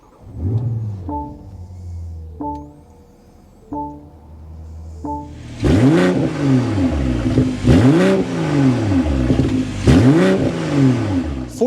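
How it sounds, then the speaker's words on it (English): 2024 BMW M340i with an inline six-cylinder twin-turbo engine, exhaust close by: a few short blips of the throttle, then several deeper, louder revs that swell and drop back in steady repeated surges. "start it up so you can hear that exhaust note"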